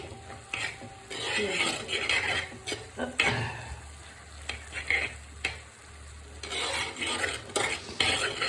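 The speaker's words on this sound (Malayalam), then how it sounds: "നമുക്കിനി ഇളക്കി" Anchovy thoran being stirred in a pan, with a steady scraping and sizzling texture and repeated spoon strokes throughout, close and fairly loud, with no talking.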